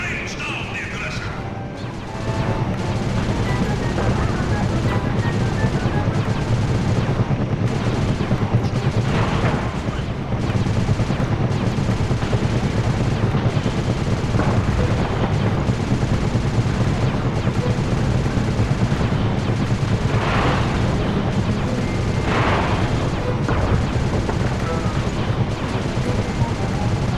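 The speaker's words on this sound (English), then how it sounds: "Nice shooting, Bentley." Gunship gunfire in the video game Sly 2, a dense, continuous barrage of crashing shots and impacts under game music and effects, with a few louder bursts standing out across the stretch.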